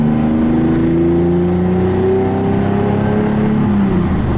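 A supercar engine revs hard during a drive, its rising and falling tone loud and close, climbing and dropping across a couple of sweeps with no talk over it.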